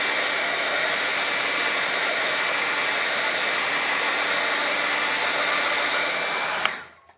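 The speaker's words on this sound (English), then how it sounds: "I'm gonna give this just a quick shot with my dryer. My heat gun." A heat gun drying watercolor paint blows with a steady, loud whirring roar for several seconds, then clicks off and winds down.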